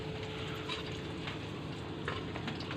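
Garlic fried rice sautéing in a pan: steady dense sizzle with scraping stir strokes, close and continuous throughout.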